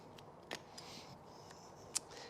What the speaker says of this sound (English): Again, continue to cut the underlying fabric.